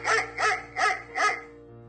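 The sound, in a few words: dog barking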